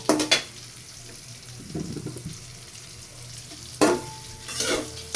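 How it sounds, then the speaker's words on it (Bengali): Soya chunks frying with turmeric in a pan: bursts of loud stirring and scraping at the start and near the end, separated by a quieter stretch of soft sizzling, close and without speech. "হলুদ দিয়ে এবার এগুলো ভালো করে ভেজে নেব।"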